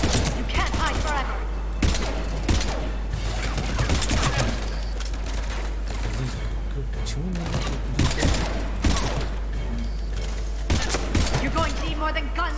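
Gunfire rattles in repeated bursts during a combat scene on an invaded Earth in the video game Mass Effect 3, mixed with heavy mechanical effects and characters speaking over the fighting.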